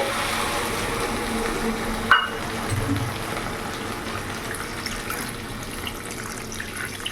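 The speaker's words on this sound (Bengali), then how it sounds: "মশলা ধোয়ার বাটির জলটা দিয়ে দেবো" Water from a bowl used to wash spices is poured into a simmering rohu fish curry with bori on a medium gas flame, giving a steady gushing, splashing pour close by with no talk.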